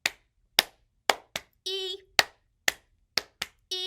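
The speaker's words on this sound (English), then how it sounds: "4 claps" Sharp hand claps ring out in a steady rhythm during a children's Pride song at a library story time, crisp and close, broken once or twice by a brief sung note.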